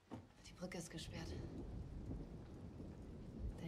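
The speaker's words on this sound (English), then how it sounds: "The rain's always torrential here" Torrential rain pours steadily with low rolling thunder in a scene from the TV series Dark, the whole downpour quiet and distant, with a faint voice briefly audible early on.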